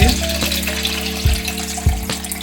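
Water for a coffee jelly pouring steadily into a container, a continuous close splashing gush with a few brief thumps over the pour.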